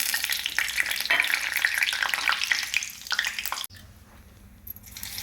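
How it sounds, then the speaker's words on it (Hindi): Mustard seeds and cumin hit hot oil with a loud, dense crackling sizzle that drops off abruptly partway through, leaving a quieter background. No voices. "अब मैं राई और जीरे को इसमें डाल लेती हूँ।"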